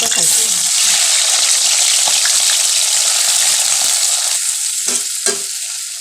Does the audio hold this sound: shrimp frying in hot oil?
yes